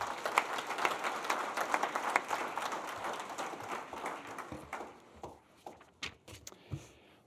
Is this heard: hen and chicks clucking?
no